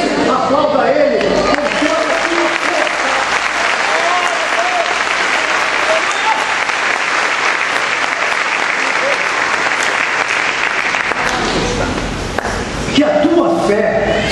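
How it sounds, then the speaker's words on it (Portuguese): Church congregation breaks into loud, sustained applause that fills the room almost without a break, with cheering and voices mixed through it, tapering briefly near the end before swelling again. "E por isso, aplauda Ele."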